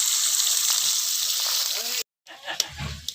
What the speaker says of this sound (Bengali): বেগুন ঢাকা ঢাকা দিয়ে ভাজছি,